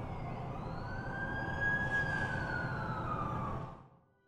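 An ambulance siren in The Amazing Spider-Man 2 video game wails over low traffic rumble, one rising and falling sweep that swells nearer and then cuts off at the end.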